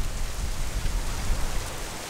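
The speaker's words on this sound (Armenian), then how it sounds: "Քամով անձրև է քամի հետ միասին։" Wind-driven rain pours at Lake Sevan, a dense, even hiss of drops hitting surfaces that holds steady throughout, with no talking.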